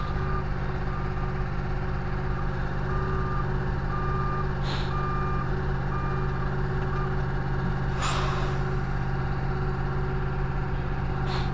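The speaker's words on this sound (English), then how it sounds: "Now we're going to lift this trailer bed off the ground again, and this Jeep will come up with it." Idling truck lifting a trailer bed carrying a Jeep, with a steady engine drone, repeated reversing beeps and two short air hisses, close by.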